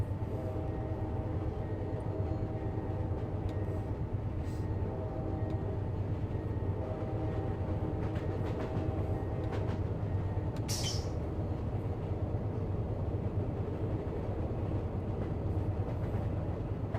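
Amtrak Southwest Chief passenger train in Run 8 simulator accelerating, a steady low engine drone and rail rumble running unbroken throughout, with a brief hiss partway through.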